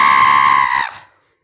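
A person screams as loud as possible in a screaming contest: one loud, piercing, sustained tonal scream lasting nearly a second before cutting off abruptly into silence.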